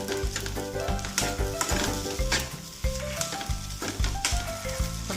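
Semiya egg noodles being stirred as they fry in a pan, giving a steady close sizzle with stirring strokes throughout, alone with no talk.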